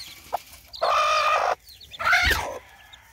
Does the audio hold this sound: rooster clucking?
yes